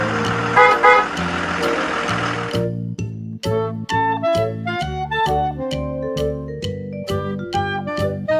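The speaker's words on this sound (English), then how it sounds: "Bus." A bus horn blares over a rumbling engine for roughly two and a half seconds, then gives way to a series of clear, evenly spaced musical tones.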